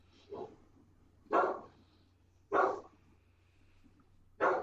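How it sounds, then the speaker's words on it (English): A single pet dog barks four times, in loud, evenly spaced single woofs about a second apart, close by in a quiet room with a steady low hum; one word is spoken at the start. "dog is upset about Meta"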